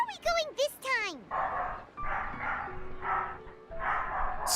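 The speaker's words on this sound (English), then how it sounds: "Sorry about the dog." A dog barks and yips in short bursts close by, each bark a sharp call, while a voice talks over the top and game sounds play underneath.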